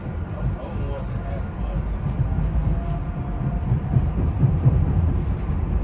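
SEPTA train running on the old Reading main line into Philadelphia, a continuous low rumble and rolling rail noise from inside the car, steady and building slightly, with no clear talk.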